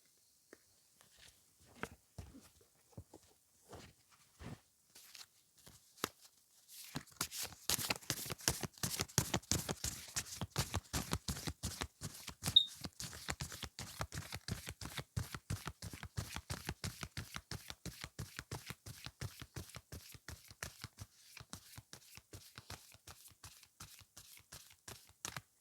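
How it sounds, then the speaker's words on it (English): Scattered card snaps at first, then a long, fast, even run of crisp clicks as an oracle card deck is shuffled close by, gradually slowing near the end. "as I'm shuffling for the other deck"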